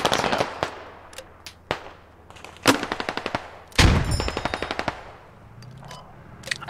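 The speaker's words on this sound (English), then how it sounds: "I'm gonna just shoot into the trees here." Gunfire in the tactical shooter game Squad during a large urban battle: rapid bursts of automatic fire and single sharp shots, some near and loud, others distant, with a heavier blast midway and no talking.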